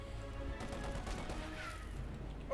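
Machine gun fire from a .50 caliber position in the World War II strategy game Company of Heroes 2, rattling in quick, faint bursts beneath a busy battle mix with other distant shots.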